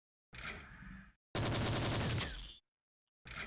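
A golden AK rifle in the video game Brazilian Drug Dealer 3 fires loud, rapid automatic bursts, two sustained strings of shots separated by silence, with a third burst starting at the end.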